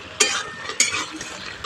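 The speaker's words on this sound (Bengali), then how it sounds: "খুব ভালো করে মিশিয়ে নেব।" A spoon stirring a squash and potato curry with green peas in a pan, close and clear, with three sharp scraping clinks of metal against the pan at even intervals over a soft background, no talk.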